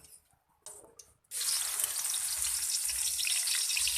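Dried shrimp (ebi) fry in hot cooking oil in a wok, a few faint clinks first, then a sudden loud, steady crackling sizzle that continues without pause.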